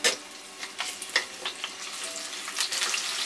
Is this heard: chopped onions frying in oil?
yes